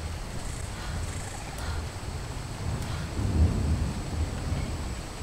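Rain in the Ark Survival Evolved game, a steady broadband hiss with a low rumbling swell partway through, like distant thunder, and no talking.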